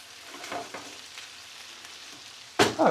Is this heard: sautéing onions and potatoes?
yes